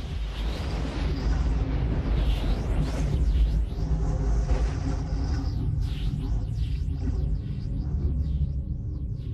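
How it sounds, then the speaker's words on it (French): Deep thunder from a permanent storm on Jupiter rolls in a continuous heavy rumble, with faint whooshing swells drifting over the top. "Toutes ces turbulences nuageuses génèrent un orage permanent."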